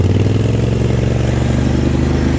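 A lawn mower engine runs in low range through snow during a March snowstorm, a steady, close, loud idle-like drone with a rough mechanical chug and no pauses.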